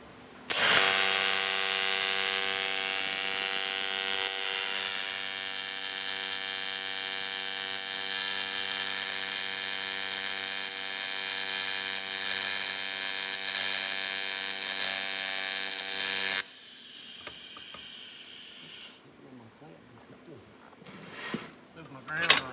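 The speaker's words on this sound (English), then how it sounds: "Get this thing welded." A welder lays a long, continuous buzzing, sizzling bead on a BMW turbo oil return line for about fifteen seconds, then stops abruptly. Quiet clicks and handling sounds follow.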